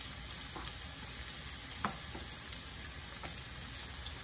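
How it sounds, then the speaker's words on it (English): Onion frying in hot oil in a hot wok, with some bay leaf also in the pan, a steady soft sizzle with a few light clicks of stirring, no voices. "So I have my wok hot already, add oil. So add the onion"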